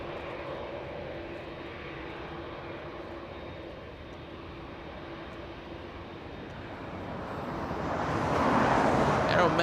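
Aeromexico airliner beginning to taxi at Los Angeles International Airport, a steady jet engine drone that swells louder toward the end, with faint distant voices underneath.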